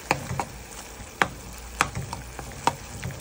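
Dried shrimp frying in a spice paste in a pan, a steady low sizzle broken by several sharp stirring scrapes and clatters spread through the clip, with no one talking.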